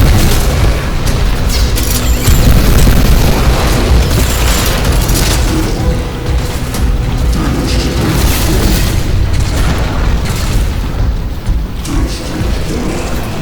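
In the game Crysis 3, a pistol with the punch of a 50-caliber gun fires a rapid string of loud booming shots that overlap into a dense, heavy barrage, mixed with mechanical clatter.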